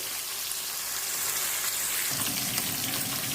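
Fish pieces frying in a pan for a green fish curry, giving a dense, continuous hiss of sizzling oil that grows louder and rougher partway through, up close and without speech.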